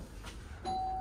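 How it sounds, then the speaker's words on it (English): A hotel room doorbell in a Manila hotel rings once, a soft first tone followed by a clear sustained electronic chime, close by in a quiet room. "Yeah, may nag-doorbell."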